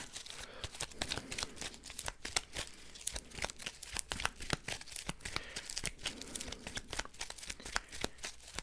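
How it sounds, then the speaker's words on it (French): A Marvel Champions card deck being shuffled by hand, with a steady run of quick, close, crisp riffling and flicking card sounds. "On va mélanger le deck."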